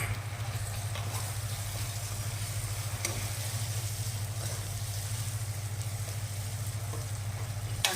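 Tomato and spices sauté in a pan for dal bati, giving a steady soft sizzle with faint crackles and the occasional clink, continuous and fairly quiet over a low background hum.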